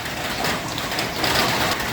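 Steady rain falls outside a window on a stormy morning at a house, a dense, even hiss of drops with no pauses and no voices.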